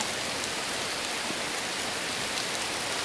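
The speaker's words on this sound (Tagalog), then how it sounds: "parang bumabagyo na talaga dito. Ang lakas na ng ulan." Heavy storm rain pours down in a dense, loud, unbroken hiss of drops hitting surfaces nearby, steady from start to end with no voices.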